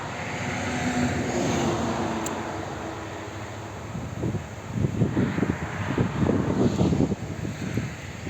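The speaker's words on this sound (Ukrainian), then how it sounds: "Ось так іде трактор." A low New Holland T7060 tractor engine rumbles steadily across uneven field, swelling louder and rougher in the second half as it works close by, with some wind noise.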